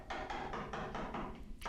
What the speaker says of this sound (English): I'll do that using a hammer and a big broad screwdriver